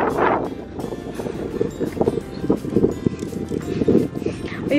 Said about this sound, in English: it's more windy there when you get to the end.